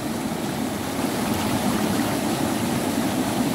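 Strong river current rushing steadily, a dense, loud, unbroken roar of flowing water close by throughout, with no voices.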